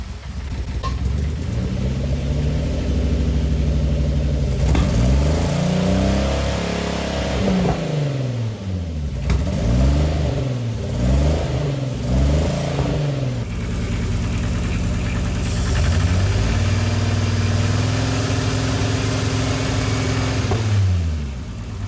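A turbocharged VR6 engine swapped into a Pontiac Fiero starts for the first time, cranking and catching into a rough idle, then revving in repeated rising and falling blips before settling and revving again, loud and close, with no talking.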